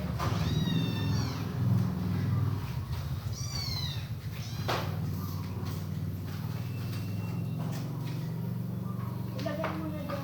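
A cat meows several times, its rising, wavering cries standing out clearly over a steady murmur of people talking in the background.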